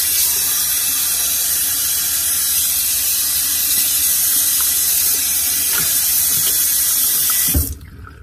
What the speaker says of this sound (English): The first thing you want to do before you shower is get some really warm water started.